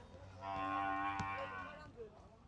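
A single loud, drawn-out moo rings out from cattle being unloaded from trucks at a Bangladeshi livestock market, with faint background bustle around it.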